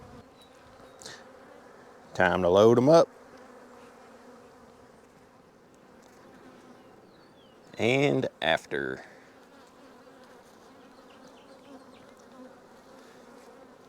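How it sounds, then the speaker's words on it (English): Honey bees hum as a low, steady drone around hive frames while splits are made, continuous and moderately close, broken by two short bursts of louder buzzing or handling noise; a person talks briefly over it. "there seem to be plenty of bees still in the bottom"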